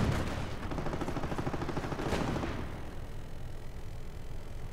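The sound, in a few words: gunfire focused on grenadiers in a strategy video game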